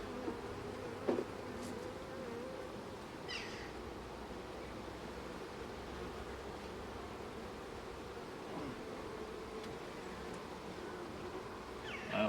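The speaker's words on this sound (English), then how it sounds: "There are bees all over that comb" Steady insect buzzing from many honey bees crawling over soft comb, a continuous low drone with occasional brief louder passes close by.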